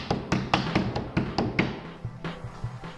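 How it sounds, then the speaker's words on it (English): Light repeated tapping on wooden door shims while fitting a pre-hung door, about eight quick knocks in a steady rhythm followed by a few softer, duller thuds, close and alone. "now tap that away gently. Shims will break easy."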